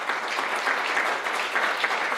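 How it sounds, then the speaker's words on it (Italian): Audience applause at a beauty pageant selection evening, a brief, even burst of many hands clapping, fairly loud and sustained throughout. "E io vi prego di fare un altro applauso perché se lo merita tutto."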